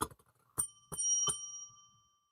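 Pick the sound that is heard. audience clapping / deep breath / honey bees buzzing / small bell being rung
small bell being rung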